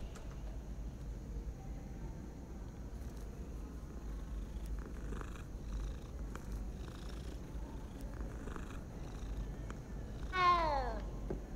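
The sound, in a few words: cat purring and meowing in video game Hogwarts Legacy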